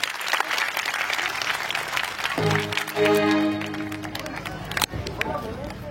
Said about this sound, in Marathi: आवडलं असेल तर मंडळासाठी टाळ्या वाजवा